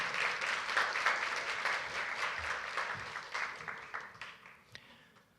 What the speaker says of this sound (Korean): 소셜리 팀 축하드립니다. 박수로 맞아주세요.